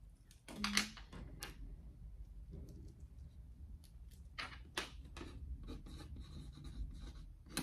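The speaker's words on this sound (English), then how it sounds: "I'm gonna write with it a pencil and with a pen." Quiet scratchy strokes of a pencil on paper come in short bursts with brief pauses, close and soft, against a faint background hiss.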